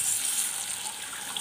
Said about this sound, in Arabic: زودي عليها يعني حوالي كوبايه ميه او على حسب كميه المكرونه اللي معاكي